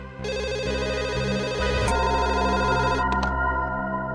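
A telephone rings steadily with a bright electronic trill, loud and close, continuing for several seconds with no voices.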